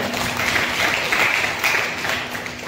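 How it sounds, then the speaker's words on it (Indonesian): Students in a classroom applaud the audio group after its performance, a dense, even patter of clapping hands heard close and continuously throughout. "Tepuk tangan kelompok audio."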